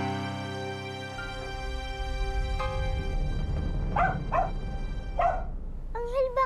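A dog, named in a Filipino drama episode, gives several short barks partway through, heard over a steady background music score.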